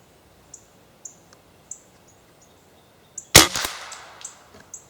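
PCP air rifle fired outdoors in wind, one sharp loud crack with a short decaying tail, preceded by small quiet clicks and chirps, with light rustling after.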